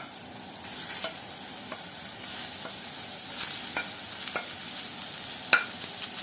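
Vegetables added to a pan with lightly roasted onion and ginger, stirred and sizzling at moderate level, with scattered short scraping clicks of the spoon against the pan and no talking.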